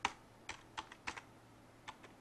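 Keys tapped on a computer keyboard while entering a command, a handful of short clicks in small clusters, close and fairly quiet, with no voice.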